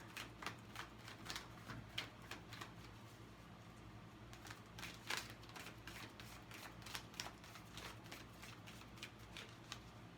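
Tarot cards shuffled steadily by hand for the whole stretch, a close, quiet run of crisp riffles and taps in an uneven rhythm over a faint background hum.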